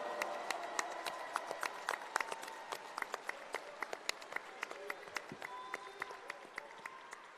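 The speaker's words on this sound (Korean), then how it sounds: "이 두 분을 위해서 힘찬 박수 보내주십시오." An audience at a Korean Democratic Party convention applauds, with dense scattered claps at a moderate distance, fairly quiet and steady throughout.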